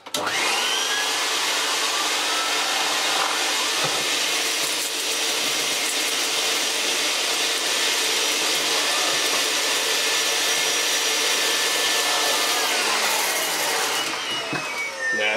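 A Vax PowerPlus turbo head on a Vax 121 vacuum cleaner running steadily at a loud, high-pitched whine for about fifteen seconds, starting and stopping at the ends, close by with no talking.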